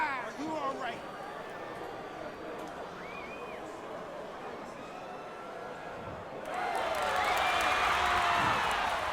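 Crowd noise at a boxing match in the video game Undisputed swells into a loud, broad roar in the last few seconds, with a commentator's voice running throughout.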